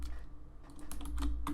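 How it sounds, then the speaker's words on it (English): Computer keyboard keys are tapped during 3D modelling work, a few soft clicks scattered over a low steady hum, the last presses slightly louder and quicker. "So you're going to want to hit S on your keyboard"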